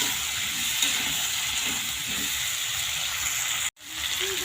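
Ground cumin, turmeric and red chilli powder stir-fried in a pan for a fish-head and cucumber curry: a steady, close sizzle with scraping stirs and a brief dropout near the end.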